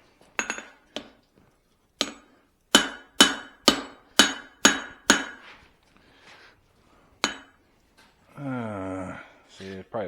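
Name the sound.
hammer strikes forging a Swedish style cross peen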